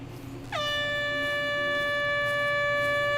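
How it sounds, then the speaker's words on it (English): A loud, sustained electronic air horn blast from a phone app, used to deter bears, starts suddenly and holds a steady, bright tone until the end. "It's like a horn or something. An air horn app."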